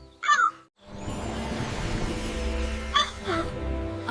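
Crows in an animated story, two short harsh caws close by, one at the start and another near the end, with a rumbling musical background between them.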